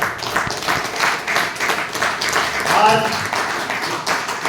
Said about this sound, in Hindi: मैं एक बार उनके लिए तालियां चाहूंगा